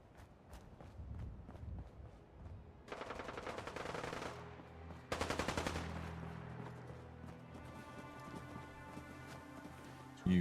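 Rapid automatic gunfire bursts in Fallout 4, loud rattling volleys with scattered single shots and echoing tails, under a low game soundscape.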